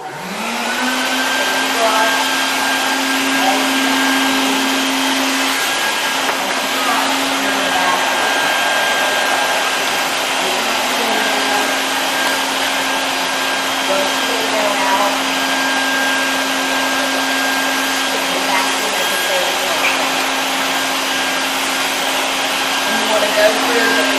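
A household vacuum cleaner runs steadily and loudly throughout a house, its constant motor whine holding an even pitch with a brief dip partway through, with no talking over it.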